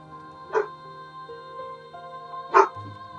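A dog barks twice indoors, two short sharp barks about two seconds apart, fairly close and clear over quiet background hum.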